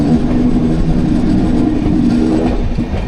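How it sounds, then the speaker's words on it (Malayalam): The 19251 Somnath–Okha Express rumbles into Junagadh station, giving a loud, steady, close rolling roar of rail carriages with a low mechanical drone and no talk. "ജുനാഗഡ് സ്റ്റേഷനിലേക്ക് പ്രവേശിക്കുന്നു."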